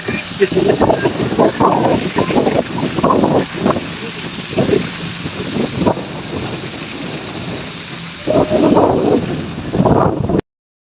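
Water released through a weir outlet on a village river rushes loudly and continuously, with heavy surging bursts that rise and fall across the whole stretch before it cuts off abruptly.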